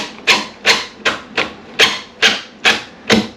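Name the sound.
driving a square-drive trim head screw into a cabinet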